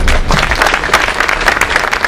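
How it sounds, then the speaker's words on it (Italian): Big, steady applause from an audience at a political meeting about Abruzzo's future, welcoming the speakers. Dense, even clapping fills the whole stretch at a loud level with no pauses. "incoraggiamo i nostri relatori con un grande applauso"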